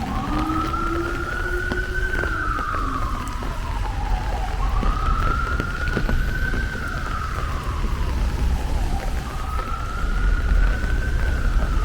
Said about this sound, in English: I thought that ambulance was going to come take me away.